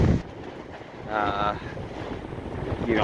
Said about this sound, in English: Incredible windstorms come up